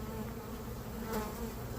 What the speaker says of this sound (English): Lots of bees down here in the brood chamber.